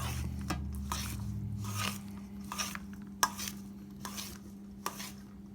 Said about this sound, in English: The more you mix it, the better, because you don't have to keep mixing it when you're frying.